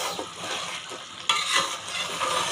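Chicken karahi with spices fries while being stirred, a moderate sizzle that swells and fades with scraping strokes, getting brighter partway through.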